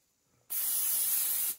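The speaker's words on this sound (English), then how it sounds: "Spray a little bit on top of the dough." A single close spray from an aerosol can, a smooth steady hiss of about one second that starts abruptly and fades quickly.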